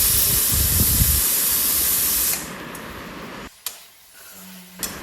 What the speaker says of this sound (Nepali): मासु पनि एकदमै मजाले फ्राई भइसकेको छ